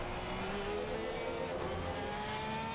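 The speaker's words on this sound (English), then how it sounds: "Listen to this beautiful sound from" GT3 race car engine in a sim racing game at Snetterton, heard from the cockpit as a steady, loud droning rev with slowly rising pitch, continuous throughout with no talking.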